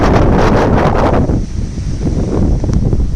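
Strong wind at about 34 km/h buffets the microphone in loud, roaring gusts on a road journey between Pandharpur and Karad, easing slightly midway but continuing throughout with no other sounds.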